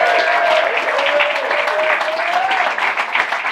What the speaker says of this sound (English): So give it up one more time for Kevin and Laura for having us.